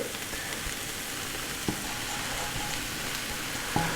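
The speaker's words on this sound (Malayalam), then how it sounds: "ഇത് നമ്മൾ വളരെ ശ്രദ്ധിച്ച് വേണം ഇത് ഇളക്കി കൊടുക്കാൻ" Cooked rice stirred and frying in a pan of mixed fried rice: a steady, even sizzle throughout, broken by a couple of sharp utensil clicks against the pan and no talking.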